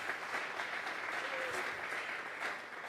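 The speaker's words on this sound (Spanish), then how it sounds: "Vamos a regalarle ofrenda de palmas al Dios de la gloria." A church congregation gives sustained applause during a worship service, a dense, even wash of many hands clapping at a moderate distance, steady throughout with no voices over it.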